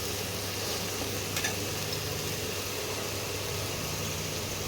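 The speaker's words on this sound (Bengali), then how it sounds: "একটু ভাজা ভাজা হোক, পেঁয়াজের কাঁচা গন্ধটা একটু যাক" Onion paste fries in oil for a fish kalia of catla, a soft steady sizzle with a faint stirring scrape, fairly quiet and without speech.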